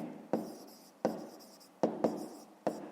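Pen or chalk writing by hand during a fifth-grade math exercise: five short scratchy strokes, each a sharp onset that fades, close and fairly quiet.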